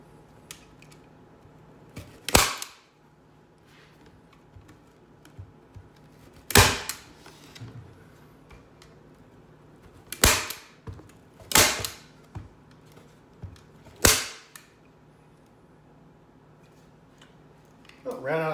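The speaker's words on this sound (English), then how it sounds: "Grab your staple gun." Staple gun firing staples into screen material while building a reptile cage: about five sharp, loud snapping clacks spaced a few seconds apart, with faint handling noise between them.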